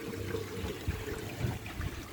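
Water flows quietly from an aquaponics fish tank outlet into a sump, a soft continuous trickle and gurgle with some aeration.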